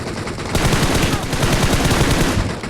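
Gunfire in the mobile battle royale game BGMI, a loud, continuous burst of rapid automatic shots filling the whole stretch, with no talk over it.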